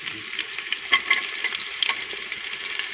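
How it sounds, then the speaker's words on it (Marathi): Sliced onion frying in hot oil with bay leaf inside a pressure cooker gives a continuous close sizzle with small crackling pops and light stirring, and no voices. "आणि कांदा थोडासा परतून घ्यायचा आहे"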